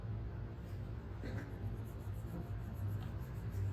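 Light blue coloring pencil scratching across paper while filling in a drawing of Stitch, a faint, steady soft rubbing with small strokes, close and quiet with no talk.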